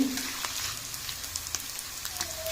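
Edible gum (dink) frying and puffing in hot ghee while making methi dry fruit ladoos, a faint soft crackle and sizzle with scattered small pops throughout.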